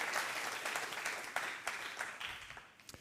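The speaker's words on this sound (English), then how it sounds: "So let's give him a round of applause." Conference audience applauding for about three seconds, a dense, steady patter of many hands clapping that tapers toward the end, fairly distant and moderate in level, with no talking over it.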